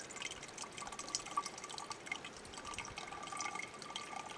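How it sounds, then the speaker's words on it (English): Snowmelt water drips and trickles into water bottles on a climb of Little Tahoma in Mt. Rainier National Park, a quiet steady patter of small splashes with a faint airy background. "Start filling your water bottles."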